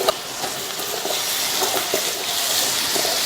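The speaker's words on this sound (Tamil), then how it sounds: "தீயை கொஞ்சம் கூட்டிட்டு 2 இருந்து 3 நிமிஷத்துக்கு இந்த காலிஃபிளவரை நல்லா இந்த மசாலாலையே வதக்கி விட்டுக்கலாம்" Cauliflower sautés in oil and masala in a pan, a steady bright sizzle with soft stirring scrapes and small pops, close and continuous with no one talking.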